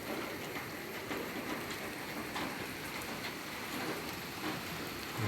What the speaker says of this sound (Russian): Что-то дождь не так прямо сильно льет. Это ударяется, это об железки ударяется.